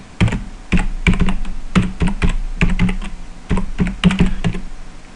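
Fast typing on a computer keyboard, close and crisp, with bursts of clicky keystrokes and short pauses in between.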